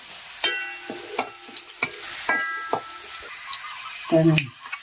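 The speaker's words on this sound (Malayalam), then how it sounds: "അപ്പൊ ഇനി നമുക്ക് ഈ വറ്റൽമുളക് കൂടെ അതിൻ്റെ കൂടെ ഇട്ട് കൊടുക്കാം." Dried red chillies and curry leaves fry in hot oil, with sharp scattered crackles and spatters and clattering stirring in a pan between quieter moments, close and fairly loud.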